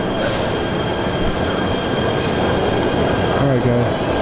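Subway train in a New York station, a steady loud rumble of the cars with a brief wheel squeal near the end and a faint voice in the background.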